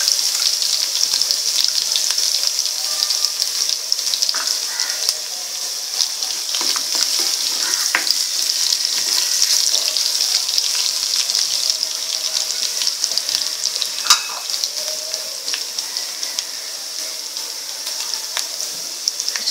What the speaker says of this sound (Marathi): चिरलेला लसूण टाकतो